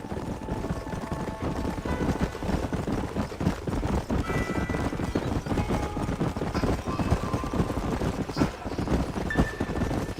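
Horse hooves clop steadily across ground in a Red Dead Redemption Western scene, a continuous busy rhythm mixed with game ambience and music, fairly close and moderately loud.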